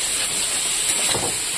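Salt, turmeric and chilli paste fry in a hot pan with a steady, close hiss of sizzling that holds evenly throughout, with no voices.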